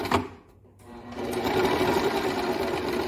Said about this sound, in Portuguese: Da máquina. E aí começa a costurar.